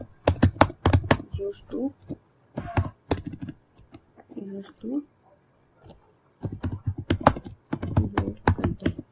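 Clicky computer keyboard keys typed in quick bursts during a basic shortcut-keys lesson, with someone talking between and over the runs of keystrokes.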